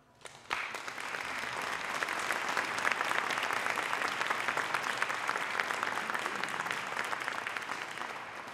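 An audience bursts into sustained applause after a brief quiet start, a dense, even wash of many hands clapping that holds steady to the end.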